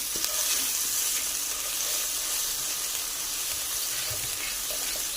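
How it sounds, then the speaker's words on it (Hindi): Ginger garlic paste with cloves and a small piece of cinnamon frying in a pan for a chicken seekh kabab, giving a steady, close, bright sizzle and hiss throughout with no talking. "इसे फ्राई करेंगे 1 मिनट।"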